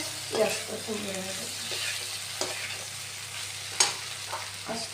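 Potatoes frying in a pan over rising heat, with a steady sizzle and intermittent scraping stirs of a spatula against the pan, close and moderately loud, no voices.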